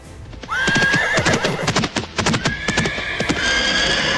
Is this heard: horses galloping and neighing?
yes